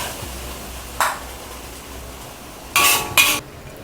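Eggplant is flash-fried and tossed in a hot pan, giving a few brief, sharp clinks and scrapes of a utensil against the pan at irregular moments over a quiet background.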